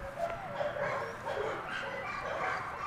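American Staffordshire bully dogs bark and yip in a rough, moderately loud burst of repeated barks, with some whimpering mixed in over a noisy outdoor background.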